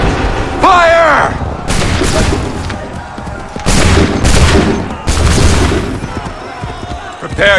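Musket volleys from Assassin's Creed 3 crash out in several loud, booming bursts with short gaps between them, while voices shout commands in the game.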